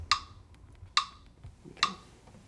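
A metronome clicking at 70 BPM makes three crisp, evenly spaced ticks, close and clear over faint background noise.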